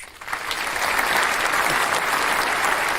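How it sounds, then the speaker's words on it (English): Steady applause from a group of people clapping, dense and continuous at a moderate distance, building slightly at the start and then holding even throughout. "You know, like people clapping"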